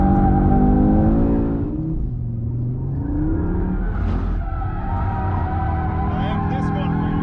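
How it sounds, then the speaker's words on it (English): A 2022 Audi RS3 with a torque splitter slides into oversteer, its engine note droning and shifting in pitch with brief tire squeals as it runs loud and close, alongside what may be speech. "A lot more tire squeal too."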